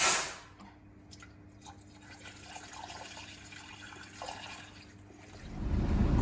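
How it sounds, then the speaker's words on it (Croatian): Antifreeze poured from two bottles into a canister for servicing a BMW F-series: a steady, soft liquid trickle and splash continuing for several seconds, close by, with a louder burst at the very end. "Antifriz ide iz ove dvije bočice u kanister i miješa se u omjeru 1:1 sa destiliranom"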